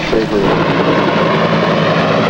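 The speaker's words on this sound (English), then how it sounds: "As the big crew-carrying helicopter returns to base camp" A large crew-carrying helicopter returning to a search base camp roars loud and steady at close range, a continuous engine and rotor drone with narration over it.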